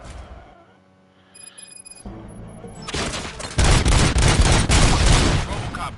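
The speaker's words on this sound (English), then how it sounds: "Gunshots? What's going on?" Gunfire in the Robocop video game: after a quiet stretch with electronic tones, bursts of rapid shots and booming blasts erupt and grow into loud, continuous fusillade.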